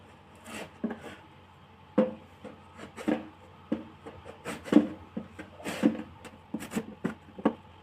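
Cassava (tapioca) is sliced for chips on a hand slicer, giving repeated soft scraping strokes in an irregular rhythm, close and fairly quiet.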